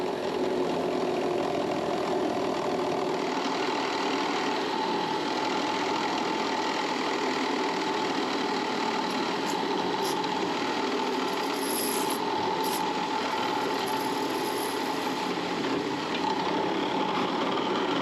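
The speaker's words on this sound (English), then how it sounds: "At the drill press, we're just going to drill these holes through here" A steady drill press whir with grinding, rasping drilling noise runs continuously at close range, loud and unbroken throughout, as it bores holes through a clamp piece.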